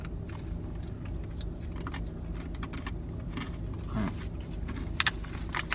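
Someone crunches a corn-nut-like savory snack up close, with irregular crisp bites and chewing clicks scattered over a low steady background hum.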